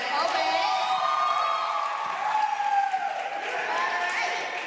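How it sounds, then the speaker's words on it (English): A high school slam poetry audience applauds and cheers after a poem, a sustained wash of clapping with whoops and excited voices, steady and fairly loud throughout. "Everybody applaud that poem."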